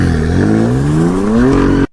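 A truck hauling a Bugatti drives past in a film scene: a loud, steady engine drone whose pitch climbs gradually for about two seconds before cutting off abruptly.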